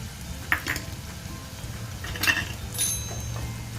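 A spoon stirs chopped chili and carrot frying in a pan for rawa upma, giving a few scraping strokes and light clatters over a soft, continuous sizzle close by.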